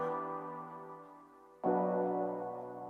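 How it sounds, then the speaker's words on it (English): A spacious, heaven-like synth pad from Massive, one long airy chord easing down before a fresh chord swells in near the middle, soft and unaccompanied. "It sounds like this kind of spacious, heaven-like sound."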